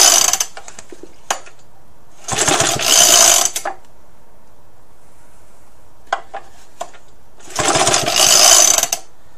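A Suffolk engine is pulled over after priming with the choke closed: two loud bursts of rasping cranking, each a second or so long, separated by quiet, with scattered mechanical clicks between.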